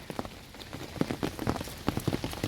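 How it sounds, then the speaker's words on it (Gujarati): Heavy rain pours steadily, drumming hard on a close surface with a dense, continuous patter and no voices. "કેટલો વરસાદ આવી ગયો"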